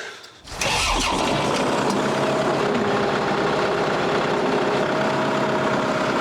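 A tractor engine cranks and catches, then settles into a loud, steady idle close by that runs on without a break.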